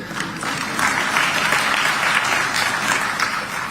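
Audience applause at the launch of Kenya's African Union Commission chairmanship bid in Addis Ababa, Ethiopia, a continuous wash of clapping from a large hall crowd, steady and moderately loud throughout.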